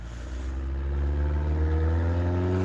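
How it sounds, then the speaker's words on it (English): A loud car rumbles through a parking lot, its deep engine drone swelling steadily and the pitch creeping upward as it pulls away, heavy and close with no voices over it. "With that loud ass car."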